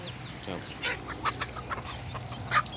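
Mother hens with young chicks at feeding time, clucking and peeping in a close, busy jumble of short calls over steady farmyard background noise.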